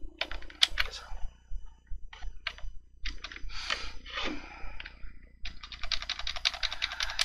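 Fingers type text on a computer keyboard in quick, uneven bursts of crisp clicks, close up and fairly quiet, with short pauses between runs.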